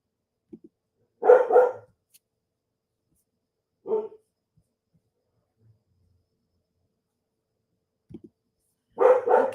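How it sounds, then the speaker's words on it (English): A dog barks outdoors at a distance, two short bursts of barking separated by a lone bark and long silences, faint and alone with no talk. "My dog is getting scared of the sounds out there"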